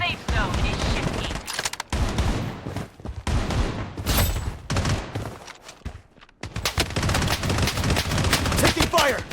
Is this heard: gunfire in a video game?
yes